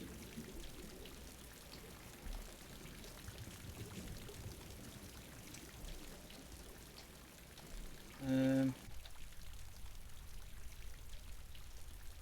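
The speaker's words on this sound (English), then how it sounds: "we can't even use the hydrophones because of the sound of water" Steady pouring, trickling water inside a damaged submarine in Silent Hunter 3, a faint continuous wash broken by a short tonal beep near the end.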